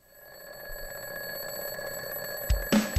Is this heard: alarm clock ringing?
yes